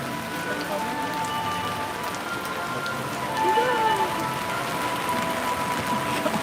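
Steady rain falls at Universal Orlando Resort, a dense, even patter on surfaces throughout, with faint voices now and then in the background.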